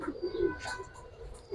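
Pigeons, a pair of silver-coloured Gribaz birds, give soft low coos close by, a short rolling call with a few faint chirps over quiet background.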